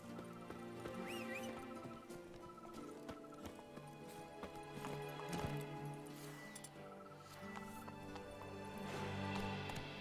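Horse hooves clip-clop at a steady trot in The Witcher 3: Blood and Wine, approaching over ambient game music, with a brief whinny and faint background effects.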